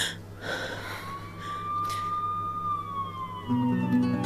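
An ambulance siren wails with a long rising and falling tone, fairly distant at first, while nearby breathing and a snort sound over it and a steady tone enters toward the end.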